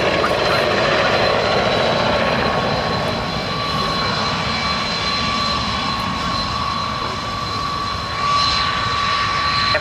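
A Merlin helicopter roars steadily overhead at an air show, its loud rotor and turbine noise filling the whole stretch with a constant whine and broadband rumble.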